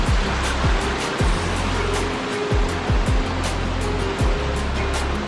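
Water rushes continuously over Hareshaw Linn waterfall in a wooded gorge, a loud, steady roar of broadband spray, with periodic low thuds mixed in and no voices.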